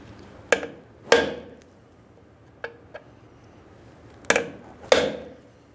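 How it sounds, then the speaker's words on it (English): A hammer drives a punch against the brake adjustment cog on the rear brakes of a 1994-2001 Dodge Ram 1500. About six sharp, close metallic strikes land at uneven intervals, with no talking. "we're going to use a hammer and punch, drive this right out of here"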